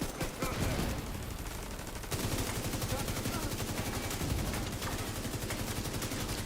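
A long, continuous automatic burst empties a whole magazine in The Division 2, loud and close, with rapid evenly spaced shots running for several seconds and a brief break partway through.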